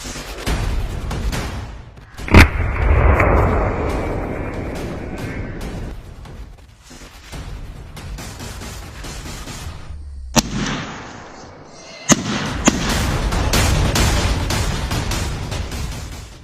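Shotgun blasts during a hog hunt crack out as a few loud, sharp reports over rustling movement and outdoor noise, with gaps of quieter background between shots.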